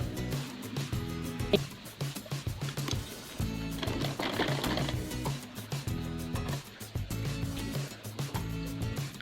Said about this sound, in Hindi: कुछ हम इस तरीके से फोल्ड करते हुए किनारे किनारे पे मशीन चला के और सारा सिल लेंगे।